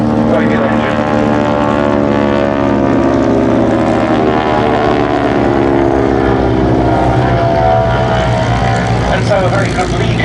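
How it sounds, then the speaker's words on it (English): Pratt & Whitney Wasp radial engine of a 600-horsepower trainer aircraft at an air show, a loud steady propeller drone with slowly shifting pitch sustained throughout, under a commentator's voice. "600 horsepower from the Pratt & Whitney Wasp radial engine."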